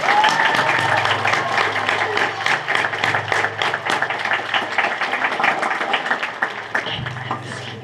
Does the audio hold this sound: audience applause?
yes